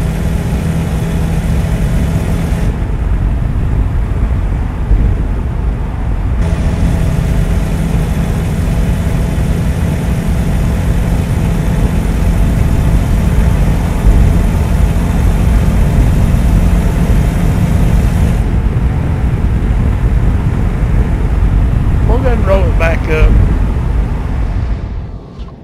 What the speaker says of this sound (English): Hear the sound of that Volvo engine with the window down.